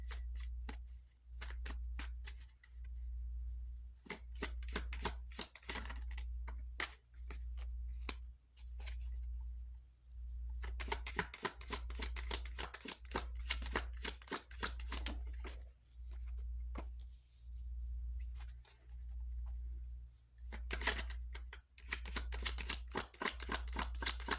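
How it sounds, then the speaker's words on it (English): Tarot cards are shuffled repeatedly in rapid riffling bursts with short pauses between, close up, over a low steady hum. "I'm going to shuffle these tarot."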